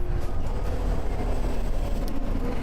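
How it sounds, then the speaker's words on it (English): A light-rail train runs along the line toward Island Gardens, heard as a steady, close, broadband rumble and rattle of wheels on track for a few seconds. "Here's the train."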